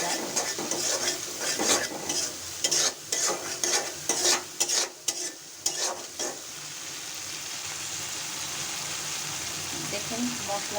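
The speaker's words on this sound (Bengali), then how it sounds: "দেওয়ার পরে আপনি মশলাটা খুব ভালো করে কষাতে হবে," A spice paste with tomatoes and salt is stir-fried in oil: a rapid run of loud scraping and clattering stirring strokes over steady sizzling, which then settles into a constant hiss.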